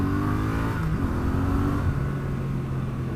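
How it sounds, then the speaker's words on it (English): A Triumph Street Twin 900cc parallel-twin motorcycle accelerating hard from about 20 mph, the engine note rising and shifting pitch steadily and loudly for several seconds, with wind rush behind it and no talk. "Just open it up."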